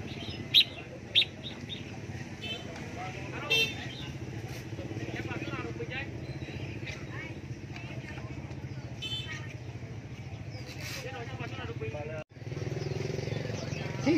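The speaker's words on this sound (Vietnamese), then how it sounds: "Chào mào." Red-whiskered bulbuls at an outdoor songbird market give scattered bright chirps and short trills over a steady bed of crowd and traffic noise, including passing motorcycles, while people talk nearby.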